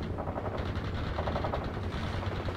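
Dense, continuous gunfire from the video game World in Conflict rattles without pause, loud and close, a rapid machine-gun-like burst layered with battle rumble.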